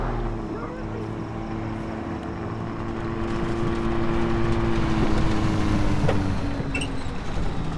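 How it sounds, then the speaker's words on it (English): Helicopter rotor drone in the Far Cry 3 video game, a steady low hum off in the distance that swells slightly partway through, with faint ambient wind and game noise around it. "Some helicopter somewhere."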